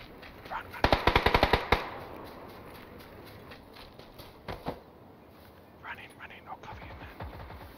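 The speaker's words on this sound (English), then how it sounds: "Oh fuck, I'm getting shot." Gunfire in the battle royale game PUBG, a rapid automatic burst of sharp shots followed by scattered single and short bursts, partly distant, with players talking over it.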